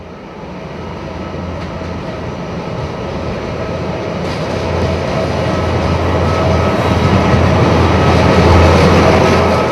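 A CC 72000 diesel locomotive, number 72 180, heads a Reims–Dijon train into Chalindrey station. Its deep engine rumble and rolling wheel noise are loud and steady, swelling slightly as it draws nearer.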